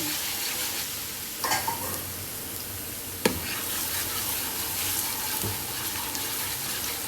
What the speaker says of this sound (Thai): เอากระเทียมลงเจียวเลย